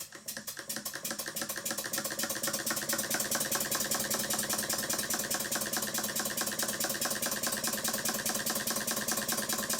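A Stuart model beam engine runs steadily, its rapid, even mechanical ticking and chuffing building up over the first couple of seconds and then holding a fast, regular rhythm, close and alone with no voices.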